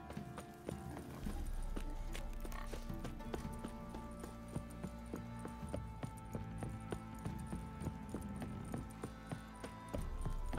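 Steady clip-clop of horse hooves trotting at a regular rhythm, close by, with light background music underneath, in the video game The Witcher 3.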